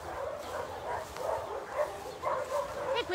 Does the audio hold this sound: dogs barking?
yes